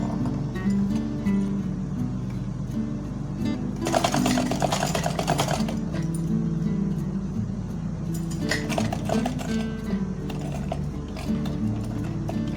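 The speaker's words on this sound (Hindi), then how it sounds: "अब इसका एक एंड पे हम इसको रखते हुए इसमें हम लोग सिलाई लगा लेंगे" A sewing machine runs in two bursts of rapid mechanical stitching while a doll gown is sewn, with quieter handling noise between them.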